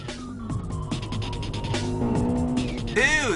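A BMW M5 drifts with tire squeal amid racing engine noise as a JDM BMW E46 M3 duels sport sedans, the squeal rising into a sharp sweeping whine near the end over steady engine drone.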